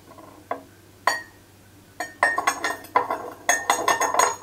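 A spoon mixing a tablespoon of table sugar in a glass, giving a series of bright clinks and scrapes, a few isolated taps first and then a busier, irregular run of rattling strikes against the glass.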